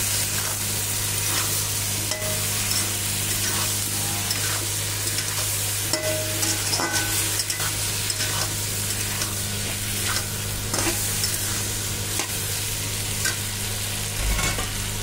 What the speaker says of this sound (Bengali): আর এবার আলু বেগুনটা দিয়ে দেবো, দিয়ে একটু কষিয়ে নেব।